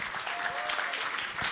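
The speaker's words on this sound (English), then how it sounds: "Round of applause for Felix." Conference audience applauding after a live demo at a telecom event, steady dense clapping with a faint tonal whistle partway through, continuous over the short stretch.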